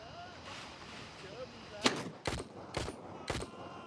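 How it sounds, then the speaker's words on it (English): Pistol shots in the video game Gray Zone Warfare: four sharp, loud reports spaced roughly half a second apart, fired over a low background murmur of game ambience. "The recoil makes the follow-up shots on pistols difficult."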